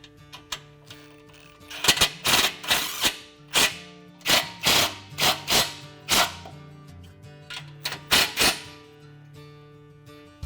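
Self-tapping screws driven into a frame-mounted bracket for a Fox reservoir on a Ranger, a run of sharp, loud power-driver bursts in quick repeated pulses with brief pauses between them.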